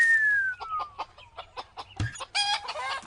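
Chickens cluck in a coop, with a rooster's crow and a string of short, close clucks and squawks that end in a louder burst of agitated cackling.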